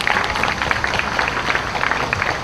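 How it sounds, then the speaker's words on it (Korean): A large crowd at an outdoor doctors' rally in Yeouido claps steadily and densely to welcome a speaker to the stage, a loud, continuous wash of applause. "여러분 박수로 맞아주시길 바라겠습니다"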